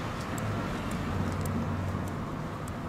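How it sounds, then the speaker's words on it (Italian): Steady low traffic rumble from cars on a nearby street rerouted around roadworks, a continuous moderate drone with no voices. "Le macchine girano dall'altra parte"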